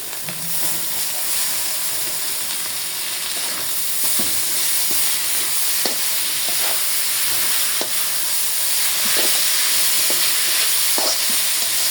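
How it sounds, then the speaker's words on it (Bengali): Shrimp, onion and garlic stir-fried with greens in a pan give a loud, continuous sizzle and hiss, broken by periodic scrapes and taps of a stirring spoon, close up with no one speaking. "এই যে চিংড়ি মাছগুলা পেঁয়াজ রসুন একসাথে পারফেক্টলি ভাবে ভাজি করছি, এখন আমি শাক দিয়ে দেব।"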